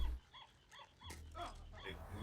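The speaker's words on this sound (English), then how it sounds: "that's a real dog" A dog in the live-action Cowboy Bebop, episode 8, gives a few short barks and yips close by, spread across a couple of seconds over a low background hum.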